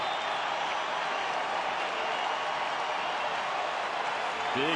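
A baseball stadium crowd at a Minnesota at Detroit game roars and applauds in a dense, continuous wash of cheering, distant and sustained, with no break through the clip.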